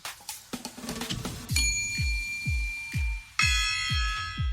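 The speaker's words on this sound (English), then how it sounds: "I asked for the bell." Bell sound effect ringing out in a talk show: after a few quick taps, a series of bright metallic dings repeats at an even pace, each with a sustained ringing tone, close and clear with no speech over it.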